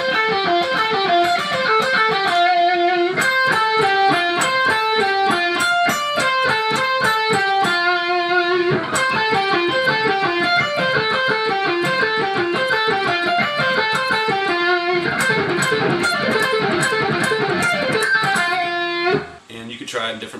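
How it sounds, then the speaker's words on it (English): Electric guitar plays a fast alternate-picked descending minor pentatonic exercise in D, even strings of single notes repeating the pattern in steady rhythm, loud and close with no talk, ending abruptly. "a really basic minor pentatonic picking exercise to kind of help you get used to doing an alternate picking technique"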